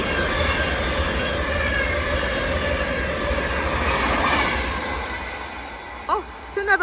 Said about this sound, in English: Have a class 390 Pendolino